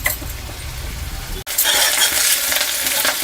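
Keema curry with spinach frying in a pan gives a steady close sizzle; a brief dip partway through is followed by a louder, brighter hiss, with no talk.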